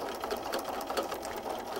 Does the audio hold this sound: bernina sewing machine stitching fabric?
yes